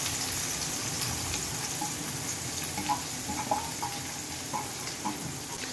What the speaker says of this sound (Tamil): இப்போ கோஸு, அந்த கேரட்டு, அந்த குடமிளகா அதெல்லாம் நம்ம ஆட் பண்ணிப்போம்